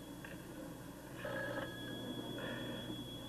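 A telephone rings in short, repeated electronic trills, faint and somewhat distant, over a low steady background hum.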